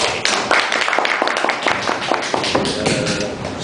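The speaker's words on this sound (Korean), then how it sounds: "우리 조범근 박사님의 발표를 박수로 환영해 보도록" Audience at an academic theology paper presentation in Korea claps to welcome the next speaker, a dense run of hand claps with scattered taps and thuds, steady and close, with some faint voices mixed in.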